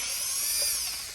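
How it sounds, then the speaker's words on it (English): A power drill runs steadily and close up while the latch is removed from a Sargent 8 Line knob set on a door, a continuous high-pitched whine across the whole clip. "And use the drill."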